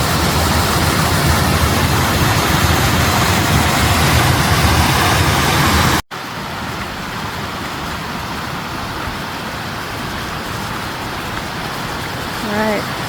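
Rushing water from a waterfall beside dammed hot spring pools on a Utah hiking trail, a steady loud broadband roar that drops abruptly halfway through and continues more softly, with brief faint voices near the end.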